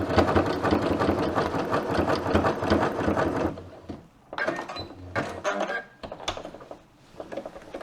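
Household sewing machine running a zigzag stitch on a pair of pants, a steady close whirring and rapid needle clatter for several seconds, then stopping and restarting in shorter bursts.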